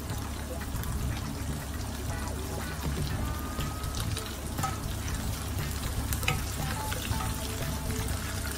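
Potatoes frying and sizzling in a pan for Indian potato dum curry, a steady close crackle with stirring and scraping throughout, no voices.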